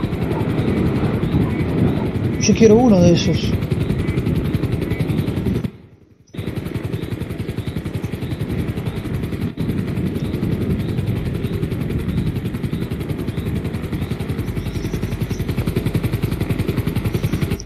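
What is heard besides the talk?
helicopter flying overhead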